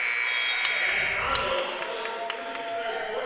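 An end-of-quarter buzzer blares steadily at a high school girls basketball game, loud over a cheering gym crowd that keeps roaring after a last-second three-pointer, with sneaker squeaks cutting through.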